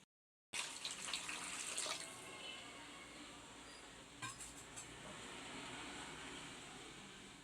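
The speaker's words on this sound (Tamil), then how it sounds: "இன்னும் இப்போ கொஞ்சம் தண்ணி நம்ம சேர்த்துக்கலாம்." Water poured from a vessel into a simmering Tamil fish curry (kendai meen kulambu), a steady near splashing and trickling that runs for several seconds after a short silent start, with faint kitchen clatter.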